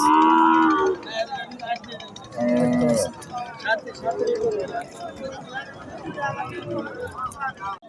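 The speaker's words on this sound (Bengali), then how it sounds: "শাহিওয়াল জাতের ষাঁড় বাচ্চা" Sahiwal bull calves moo at a busy cattle market, with several close, loud lowing calls over crowd babble and nearby talk.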